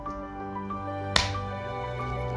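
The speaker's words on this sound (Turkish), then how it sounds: "bir nara atarak tokatı patlattığından" A single sharp slap cracks out once, mid-scene, as a hard hand strike across the face. It stands against a steady tonal background drone.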